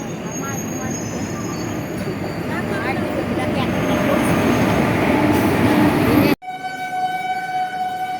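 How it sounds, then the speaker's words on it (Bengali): A train pulls into a station, a broad rumbling roar with faint wheel squeal that swells steadily over several seconds before cutting abruptly to a quieter steady hum with a thin high tone. "ট্রেন আসতেছে, আসবে এখন ট্রেন। ট্রেন ঢুকতেছে"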